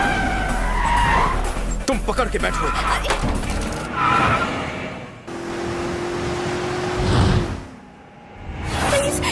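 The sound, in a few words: car skidding and speeding in movie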